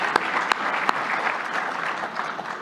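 Sustained applause fills a hall at a New Jersey business awards gala as the audience honors the Junior Achievement team, a dense steady wash of clapping with a few sharper nearby claps at the start.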